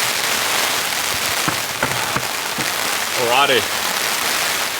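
Heavy rain pours steadily onto a campsite tarp, a dense, continuous hiss with scattered louder drops, while a person speaks briefly and a short whistle-like sound rises over it.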